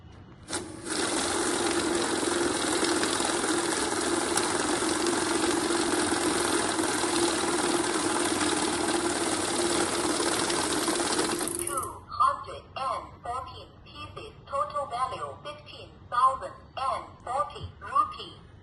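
A cash counting machine whirs steadily for about eleven seconds as it runs a stack of Indian rupee banknotes, a loud continuous mechanical buzz, then stops and a person talks.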